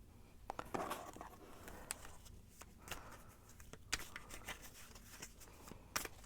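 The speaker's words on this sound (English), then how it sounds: "I'm going to shuffle some more cards." Tarot cards being shuffled close up in a quiet room give soft, repeated papery riffles and light flicks with small taps, faint and continuous, with no talking.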